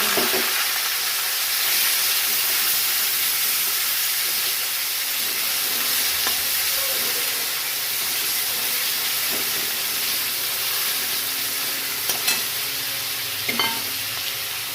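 Onions and black cumin seeds frying in hot oil for a prawn and arbi stem dish, a steady close sizzle and hiss with occasional light stirring clicks, no voices.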